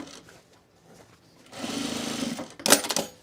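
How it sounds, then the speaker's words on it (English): A domestic sewing machine runs a steady burst of stitching along the side seam of men's cargo shorts, close and fairly loud, preceded by quiet handling and ending with a few sharp clicks. "I'm just going to stitch it along the waist here, just stabilize it."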